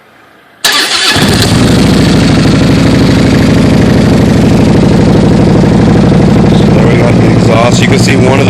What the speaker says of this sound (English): I got the Carry Foss Racing black exhaust with stock headers